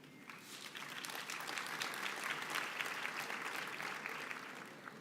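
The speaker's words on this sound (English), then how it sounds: "You've clapped ahead of time" An audience at a university graduation ceremony breaks into sustained applause, dense clapping that swells and holds steady across the hall, with a faint murmur underneath.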